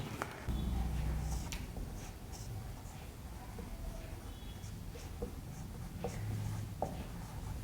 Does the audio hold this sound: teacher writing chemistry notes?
yes